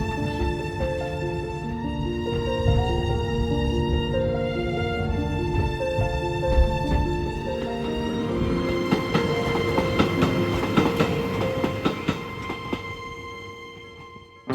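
A mountain railway train climbs zigzag switchbacks in Hakone. Its sustained grinding rumble carries high tonal wheel squeals and metallic clicks that build and shift as the train moves along the track.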